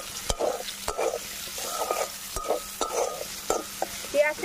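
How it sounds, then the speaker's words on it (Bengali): Chopped onion fries with cumin seeds and a bay leaf in a pan, giving a continuous sizzle punctuated by regular scraping strokes of a spatula against the pan, close and moderately loud. "পেঁয়াজটা এবার ভালো করে লাল করে ভেজে নেবো।"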